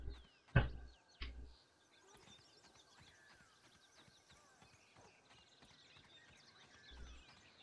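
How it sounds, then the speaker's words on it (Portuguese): Forest birds in the video game Grounded, a backyard lawn setting, chirp faintly in the background with scattered short tweets and calls, joined by a few louder thumps near the start. "Acho engraçado o barulho dos pássaros na floresta."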